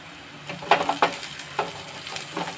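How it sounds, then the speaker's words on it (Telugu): Sliced onion, black gram dal, cumin seeds and dried red chillies hit hot oil for a raw banana dry curry, giving a close sizzle with a few sharp crackling bursts and stirring scrapes, no voices. "ఈ కలర్ చేంజ్ అవుతున్నప్పుడు ఉల్లిపాయ ముక్కలు, ఇవన్నీ మినపగుళ్ళు, జీలకర్ర వేస్తున్నాను."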